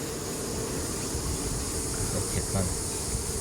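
Steady, dense insect buzzing fills the whole stretch, a continuous hum of many honey bees close by at a top bar hive, with no break or change in level.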